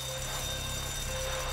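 An alarm rings during a bank robbery in the video game Grand Theft Auto 5, a steady, continuous electronic tone sustained at moderate loudness with a faint background hum and no talk.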